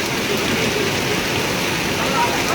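Heavy rain pouring down in a village, a loud dense steady hiss of drops hitting surfaces, close and unbroken.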